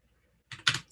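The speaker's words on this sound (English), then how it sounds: "And then type in the doc" Keys clacking on a computer keyboard in two quick bursts of taps after a moment of quiet, close and clear.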